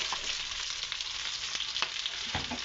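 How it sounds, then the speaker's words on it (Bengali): Onion sizzling and frying in a pan for a Bengali red lentil and pumpkin greens ghonto, a steady broadband hiss with a few scraping stir sounds, close and alone. "পেঁয়াজটা হালকা একটু ভাজা হোক"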